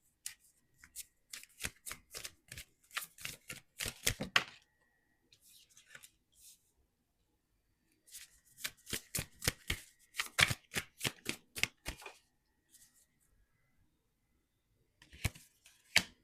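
Tarot cards are shuffled and pulled for a love reading, with close, crisp riffling bursts and flicks arriving in clustered runs separated by quiet pauses, plus a few brief softer card handling noises.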